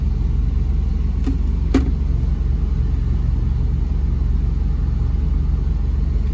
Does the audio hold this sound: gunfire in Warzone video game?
no